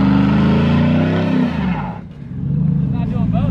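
A pickup truck revs hard during a burnout at a truck meet, a loud rising engine roar that drops off midway before the revving builds again, close and dominant.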